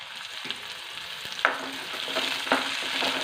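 Wet curry leaves crackle and sizzle loudly in hot oil in a pan, a steady hiss broken by sharp spits and pops, with scraping stirring as they are sautéed.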